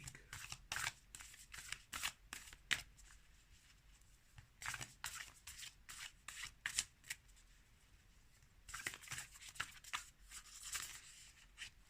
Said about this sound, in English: We are using oracle cards for your reading this week.